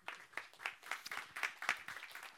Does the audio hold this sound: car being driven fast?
no